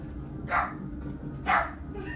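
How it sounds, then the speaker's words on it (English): A dog barks twice indoors, two sharp single barks about a second apart over a low background rumble. "Hey, what are you barking at?"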